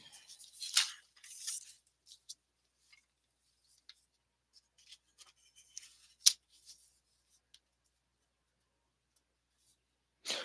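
Paper being cut with scissors during a framing and gluing craft session: a few quick snips and crisp rustles, then sparse faint ticks and small taps, ending with another short burst of cutting.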